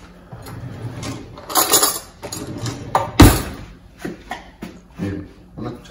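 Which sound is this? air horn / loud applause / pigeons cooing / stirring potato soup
stirring potato soup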